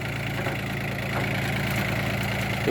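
A small Yanmar KE-4 tractor fitted with a 1.5-metre rotary tiller idles steadily nearby, its engine holding an even, low chugging rumble with no change in pace.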